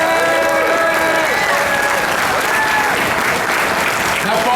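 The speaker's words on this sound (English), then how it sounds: "So give them a round of applause." Dense, loud applause from a rally audience at the Save the Reader Rally in Chicago, sustained throughout with cheers and scattered voices mixed into the clapping.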